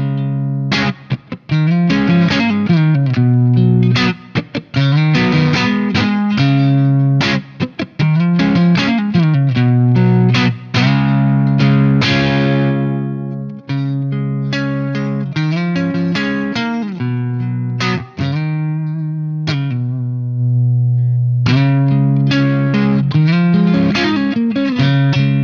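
Electric guitar through a Friedman Small Box amp on the low input with the neck pickup, a loud, full, lightly driven tone playing chords and single notes in a steady rhythmic phrase.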